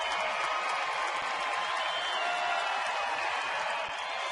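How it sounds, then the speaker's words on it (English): A Padres baseball crowd at a San Diego ballpark roars in a steady, distant wash of cheering and applause that holds evenly throughout, with no clear voices standing out. "Padre crowd trying to get it going early here today."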